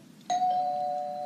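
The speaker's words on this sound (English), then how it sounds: "The doorbell." A single doorbell tone strikes once and rings out clearly, holding a sustained pure note as it slowly fades over a quiet background.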